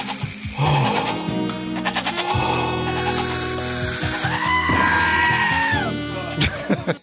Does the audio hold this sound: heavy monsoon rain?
no